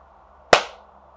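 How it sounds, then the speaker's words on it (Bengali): A single sharp hand clap rings out close and loud in a quiet room, a crisp snap followed by a brief fading tail. "ধরো আমি যদি একটা হাততালি দেই"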